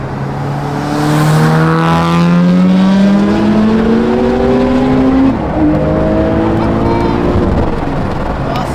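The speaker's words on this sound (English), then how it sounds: "let's see how 614 brake horsepower worth of Evo sounds when it's on its way past." A big-turbo Mitsubishi Evo IV with 614 brake horsepower roars past close by, its pitch rising then dropping as it accelerates away, loud and raspy throughout.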